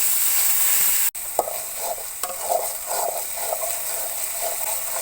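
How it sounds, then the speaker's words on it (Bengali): Ground onion, garlic, ginger and cumin paste frying in hot oil for a Bengali rohu fish and eggplant curry, a steady close sizzle with a sharp clack near the start and bursts of stirring scrapes throughout. "এখন এই তেলের ভিতরে আমি একসঙ্গে বেটে রাখা পেঁয়াজ, রসুন, আদা, জিরা দিয়ে একটু কষিয়ে নিব।"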